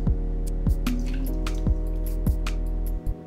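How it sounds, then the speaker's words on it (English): Tomato juice is poured into a meatloaf mix of oatmeal, breadcrumbs, salt and sugar, making wet squishing drips and splashes over a steady low background hum. "1/2 cup of tomato juice."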